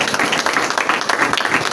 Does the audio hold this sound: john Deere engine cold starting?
no